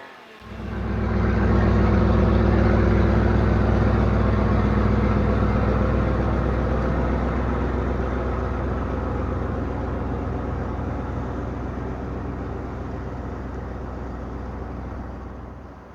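A 2009 Ford Ranger with a 4.0-litre V6 starts up in a garage and idles to be driven out, a steady close engine drone that kicks in after a brief pause and holds evenly, easing slightly.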